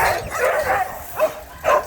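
Several shelter dogs bark and yip in quick, overlapping bursts as they pass through a doorway, close and fairly loud, with a few higher whimpering calls.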